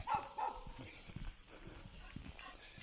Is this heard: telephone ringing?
no